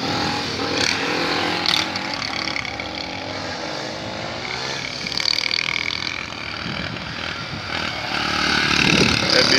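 Motorcycle engine revving and shifting hard through gears, loud and continuous with rising and falling pitch, over heavy wind and road noise at close range.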